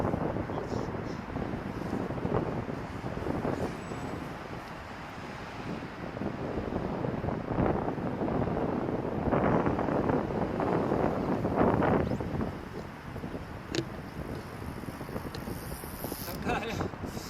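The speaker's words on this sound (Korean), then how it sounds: "바람 장난 아니야." A strong headwind roars and buffets against the microphone during a bike ride along the Han River, a continuous loud rumbling gust noise with fluctuating intensity and no clear speech.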